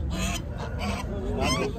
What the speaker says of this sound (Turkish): Tavuk pazarına geldik.